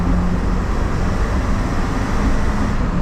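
A truck engine at full throttle roars loudly and continuously, a close, dense low rumble with steady road-like noise and no clear pauses or voices.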